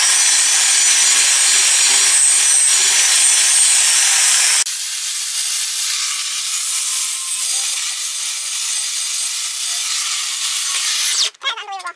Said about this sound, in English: we're just going to go ahead and put a shine on it